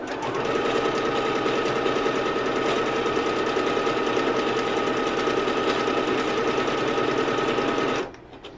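Sewing machine stitching pieces of a Mad Moxxi cosplay costume together, a steady fast whirring chatter running evenly for about eight seconds before stopping abruptly.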